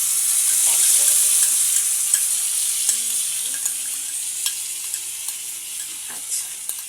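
Food frying in a pan during home cooking, a steady hissing sizzle close by, punctuated by regular light taps and scrapes of a stirring spoon, with no voices.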